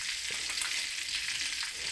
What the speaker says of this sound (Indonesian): Selanjutnya minyaknya ini aku kurangi, aku gunakan untuk menggoreng tomat